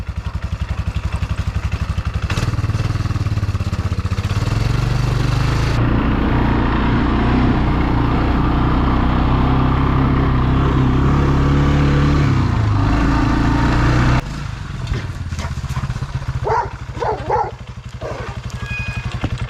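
Engine of a trooper vehicle driving along a rough track, a steady loud low rumble with rattling and clatter throughout, shifting in pitch midway and easing near the end as outdoor noises come through.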